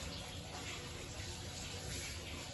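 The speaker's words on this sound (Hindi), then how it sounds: "इसको पानी डाल देते हैं।" Water gushes steadily from a tap or jug onto white beans (lobia) set to soak overnight, a continuous, full splashing rush that stays even throughout.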